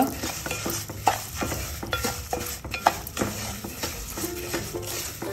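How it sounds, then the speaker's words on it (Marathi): Almonds stirred and roasted in ghee over low to medium heat, a close, continuous crackling sizzle with repeated scraping strokes of a spoon against the pan and light metallic clinks. "बदाम म्हणजे तुपातच छान परतले जातात ते"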